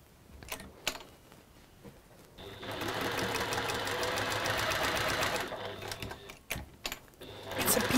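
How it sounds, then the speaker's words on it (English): A sewing machine stitches tulip quilt pieces in a workshop, a fast whirring run of about three seconds between quieter handling clicks and rustles. "And I'm going to sew the tulip on the other side of that one."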